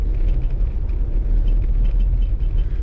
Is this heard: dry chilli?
no